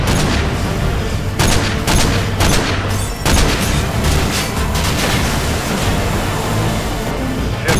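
Sniper rifle fire in a military shooter video game: a steady roar of battle noise punctuated by several sharp, loud shots at irregular intervals, with no talking.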